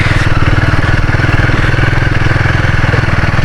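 A motorcycle engine chugs steadily and close by with a fast pulsing rhythm as the bike rides over rough ground strewn with fallen branches and debris in northern Palawan, loud and continuous throughout with no talking.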